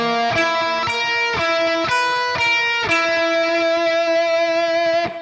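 An electric guitar with a distorted tone plays a dark flatted-fifth arpeggio sequence in seventh position, sustained notes picked in an even pulse and ringing loud and close.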